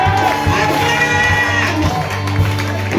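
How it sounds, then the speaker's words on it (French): A church congregation cheering and acclaiming during a service, a dense roar of shouting voices over steady organ or keyboard chords, loud and sustained throughout. "Et acclame fortement le Seigneur."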